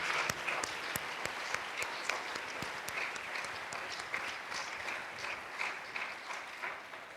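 A church congregation at a Sunday worship service applauds to acclaim the Lord, with steady, dense clapping from many hands that stays lively throughout and is heard alone, without speech.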